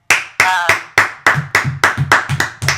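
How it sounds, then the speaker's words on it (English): Hand claps in sharp bursts for a small podcast audience, about ten separate claps and short clusters in a loose, uneven rhythm, close and fairly loud with no voices over them. "The crowd's going wild."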